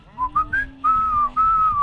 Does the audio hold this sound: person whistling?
yes